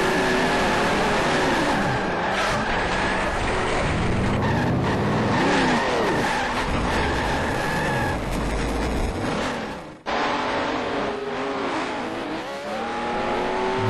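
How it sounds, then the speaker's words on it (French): Racing cars in a sim-racing video game at the 1976 Salzburgring scream past with engines revving and tires squealing as cars hit the rail and spin off the track, loud and continuous with a sharp cut near the end. "Harry se fait ramasser par Potvin qui est après rebondir sur le rail et les 3 voitures sortent."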